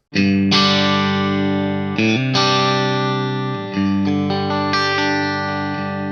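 A loud, overdriven electric guitar through a 10-foot cable, without a buffer, plays a handful of ringing chords in sequence, thick and sustained, played alone without any voices.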